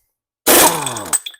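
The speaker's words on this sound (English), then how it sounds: "the air hammer does it" An air hammer pneumatic tool is used to push out a wheel hub on a vehicle's axle, a loud, close burst of buzzy rattling lasting about a second, with a few short sputters after it.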